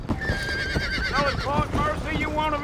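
A horse in the video game Red Dead Redemption 1 whinnies in several rising and falling calls over steady galloping hoofbeats, with a voice talking underneath.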